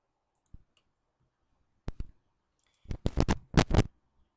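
A computer mouse clicks several times in quick succession, a few isolated clicks followed by a rapid cluster, close and crisp in an otherwise silent background.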